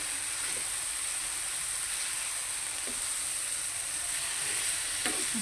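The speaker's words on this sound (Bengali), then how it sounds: "ভালো করে নেড়ে চেড়ে মিক্স করে নিব পেঁয়াজের সাথে।" An egg cooks with onions in a pan as it is stirred, giving a steady moderate sizzle with a few faint scraping stir sounds and no speech.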